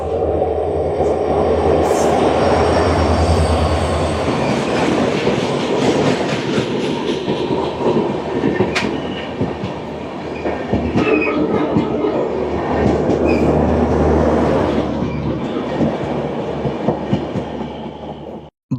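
The Garib Rath Express passenger train runs steadily on the rails near Bandarkhal station, its wagons rumbling loudly and continuously with rhythmic clickety-clack from the wheels and no talking.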